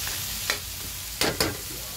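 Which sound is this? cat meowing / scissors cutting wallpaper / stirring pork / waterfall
stirring pork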